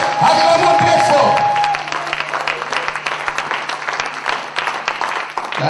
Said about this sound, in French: Acclamons très fort pour la gloire de Dieu.